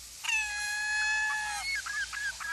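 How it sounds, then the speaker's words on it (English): A recorded bird distress call played from a truck speaker, a long harsh tonal squawk followed by shorter wavering cries, fairly close and clear. "The proper distress call is played for 15 to 20 seconds and then shut off."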